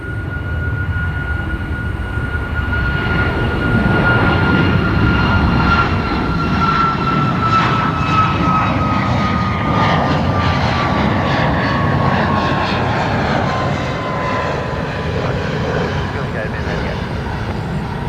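An airliner takes off from Brisbane Airport with a loud, sustained engine roar and a steady whining tone that slowly falls in pitch. The roar stays dense and continuous throughout, and no one talks.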